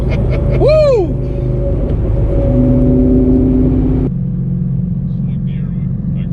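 An 830+ horsepower Ford Mustang accelerates hard, a loud steady engine drone running throughout with a rising whine near the start and a shift in tone midway, while people talk and shout over it.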